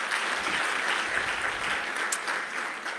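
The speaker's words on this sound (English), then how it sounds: "Can we have a round of applause, please?" An investment conference audience in Botswana gives a round of applause, a dense, even wash of clapping that holds steady throughout.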